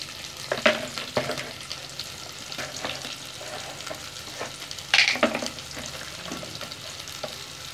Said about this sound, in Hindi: और इसको हम मज़ीद भूनेंगे।